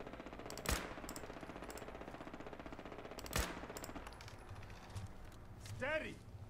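Gunfire at a robot in the video game Fallout 4: two sharp, loud shots a few seconds apart, then smaller clinks and a whirring mechanical sound, over game background noise.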